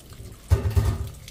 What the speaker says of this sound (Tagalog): Kailangan ko siyang mabandian sa sa malamig na tubig.